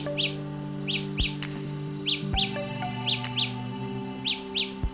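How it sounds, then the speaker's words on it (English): Samsung Galaxy Buds earbuds sounding their Find My Earbuds alert: repeated short, high chirps in quick pairs, fairly loud over a steady background hum and tonal drone. "It kind of does like a chirping sound."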